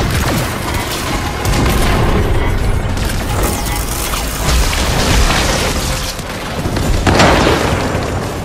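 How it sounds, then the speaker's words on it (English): Mortars in the Warframe video game fire and burst in a heavy, continuous barrage of loud booms and mechanical thuds, rumbling for several seconds with repeated close impacts. "Got a few mortars left. Firing them all."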